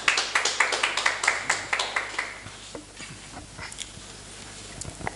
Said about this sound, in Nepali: हाम्रो सरलाई ताली बजाएर स्वागत गर्नेछौँ